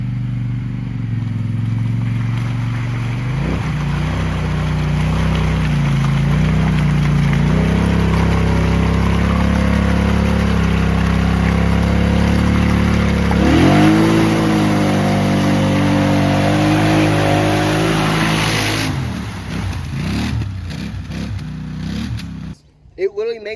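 Outlaw 2 1000 ATV engine straining and revving hard as its tires spin in mud, the pitch climbing and dropping in surges before cutting off near the end, with someone talking over the noise.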